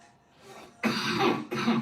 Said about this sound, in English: I get all excited and start coughing.